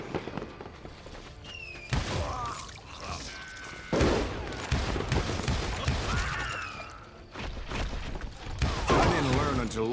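Gunfire in the video game Call of Juarez: Gunslinger, dense bursts of shots and clattering mechanisms mixed with game music and effects, loud and continuous, with voices talking over it.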